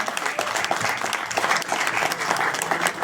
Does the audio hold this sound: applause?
yes